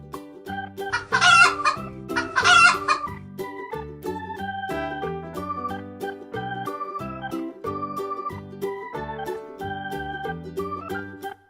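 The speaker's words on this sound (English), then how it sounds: "It's a chicken." Cartoon-style farm animal sounds with a chicken clucking and a rooster crowing in two loud bursts early on, set over a bright musical backing that continues to the end.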